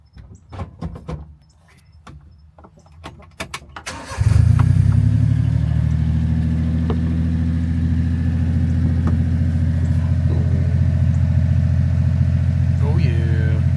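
A Honda Acty kei truck's small engine starts up and settles into a loud, steady close-up idle hum, following a few clicks and knocks.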